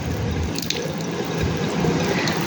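Water runs from a tap into a sink for washing a face, a continuous close splashing stream with small surges and drips.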